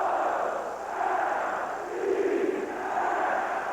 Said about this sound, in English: Here's the Orioles cheer.